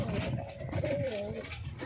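A male pigeon coos nearby in a short, soft, wavering call over low background noise; no talking.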